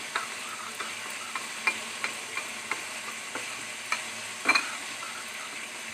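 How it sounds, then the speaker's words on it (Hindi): Spices including turmeric being stirred into dhaba-style beef karahi with tomatoes in a pan, a steady sizzle under light scraping and spoon taps against the metal, with a sharper clatter near the end. "इन सब मसालों को मिक्स कर लेते हैं अच्छी तरह से।"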